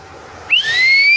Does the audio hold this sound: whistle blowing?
yes